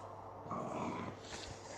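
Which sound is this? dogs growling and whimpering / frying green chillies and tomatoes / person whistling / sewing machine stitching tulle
dogs growling and whimpering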